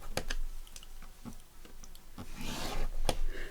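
Paper being scored with a scoring tool for journal-making, giving a series of soft scratchy strokes and small clicks, close and fairly quiet, with no talking.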